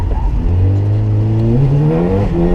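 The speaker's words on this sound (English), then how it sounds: "I have to utilize clutch kicks a little bit more while in drift." A turbocharged Mazda Miata's engine revs up sharply after a clutch kick while drifting, rising in pitch over a couple of seconds, loud and close.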